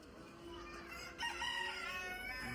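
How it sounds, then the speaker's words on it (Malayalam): A rooster crows at a pet farm crowded with chickens, its drawn-out call ringing fairly near and clear against a low murmur of other fowl, with no talking over it. "ഫുള്ള് കോഴിക്കൾ തന്നെ, അതുകൊണ്ട് ഒരു ഏരിയ മൊത്തം."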